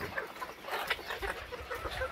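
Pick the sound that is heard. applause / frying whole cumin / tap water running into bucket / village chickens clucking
village chickens clucking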